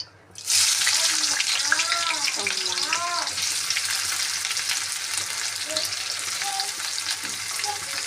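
Onions hit hot oil in a pan and burst into a loud, close, continuous sizzle that starts abruptly and crackles on steadily, with a few faint background tones.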